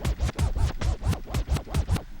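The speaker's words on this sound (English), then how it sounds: "rock it back and forth just like a record, I can get that typical scratch sound" A Pioneer DVJ-X1 jog dial rocked back and forth produces a rapid series of about ten rhythmic DJ scratches, loud and close with no voices.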